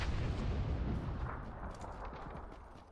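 Grenade going off in PUBG, a deep booming blast with rumbling debris that decays over about three seconds, heard alone without voices.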